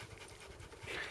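A tired dog pants at a campsite in Maine, a quick rhythmic huffing that stays close and steady, growing a little louder toward the end, with no voices over it.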